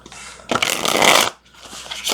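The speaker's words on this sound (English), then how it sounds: "I'm going to separate these and I'm going to shuffle them because I want to get a good shuffle in with this" A deck of tarot cards is shuffled up close: a loud riffling rush, a brief pause, then a second shuffle.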